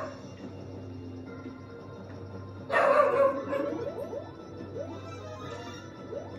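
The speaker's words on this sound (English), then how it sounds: "Sorry, my dog's barking." A dog barks in the background of a home where Super Mario Maker 2 is being played, a burst of sharp barks and yips rising over steady game music, then a few softer repeated yips fading beneath it.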